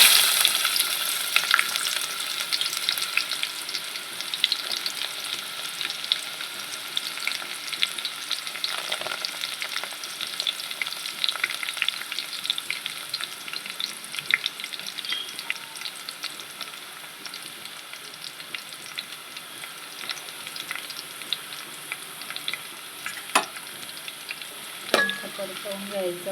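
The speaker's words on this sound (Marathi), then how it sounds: "तेल गरम झालेलं आहे, त्यात आपल्याला घालायचा कांदा" Chopped onion sizzles and crackles steadily in hot oil in a home kitchen while a bhaji is cooked, with occasional stirring scrapes and no talk, fairly close and even in level throughout.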